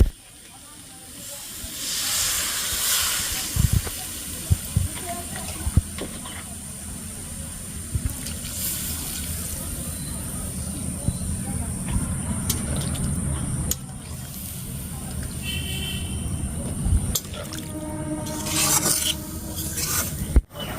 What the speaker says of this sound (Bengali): জল ফুটে এসেছে।